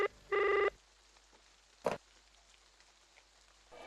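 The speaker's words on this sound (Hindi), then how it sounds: "अब किसका फोन है?" A telephone rings in a quiet indoor room: one loud electronic ring burst, then a short sharp click a second later, and the start of another ring at the end.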